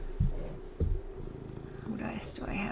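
A house cat purrs softly and steadily nearby, a low rumbling texture under a few thumps and light rustling, with no talking over it.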